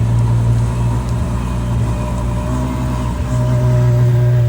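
A Ferrari Pininfarina idles and rumbles nearby at a rainy car meet, a steady loud low engine drone that swells slightly near the end, with a faint whine above it.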